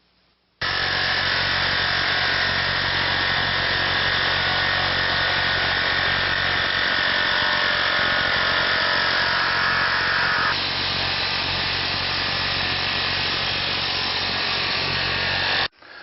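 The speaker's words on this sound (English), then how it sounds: "We're going to cut the laminate an inch or two bigger than what we need." A power saw cuts a laminate sheet for a countertop, starting abruptly and running loud and steady for about fifteen seconds with a shift in pitch partway through, then cutting off sharply, close by with no voices.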